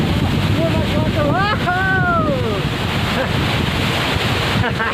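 Rushing water at the Thorgu waterfall near Skardu in Baltistan, a loud steady roar mixed with cold wind buffeting the microphone, with a brief faint voice or call rising above it partway through.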